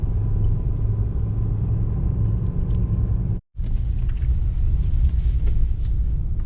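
A 4-wheel drive vehicle cruises up a mountain road in early afternoon, its engine and tires producing a loud, steady low rumble from inside the cab, broken once by a brief dropout.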